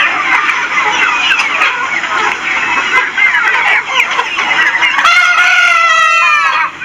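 A flock of Golden Misri poultry chickens cluck and squawk loudly and close by, a dense, continuous chorus, with a rooster's drawn-out crow rising near the end.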